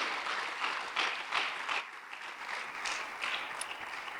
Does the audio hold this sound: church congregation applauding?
yes